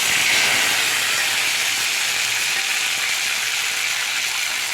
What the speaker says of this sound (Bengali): কড়া গরম হয়ে গেছে, কড়া এবার দিয়ে দেবো চিংড়ি মাছগুলো।